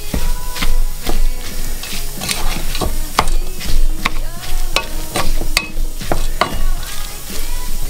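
Leek stirred and frying in a pan for shepherd's pie, with steady sizzling under repeated sharp scrapes and clacks of a utensil against the pan, loud and close throughout.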